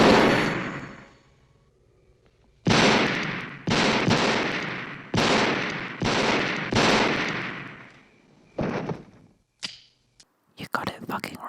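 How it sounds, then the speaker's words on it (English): Several loud, sharp bursts ring out in a row, like gunshots fired into the masked killer Michael Myers in a Halloween horror film, followed by a few shorter, fainter cracks near the end. "Michael Myers has just been shot 7 times."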